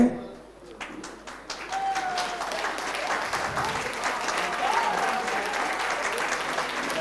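Audience applause at an award ceremony for a Vedic astrology institute's Guru Purnima event, starting after a brief pause and building into steady, fairly dense clapping from a crowd that holds to the end.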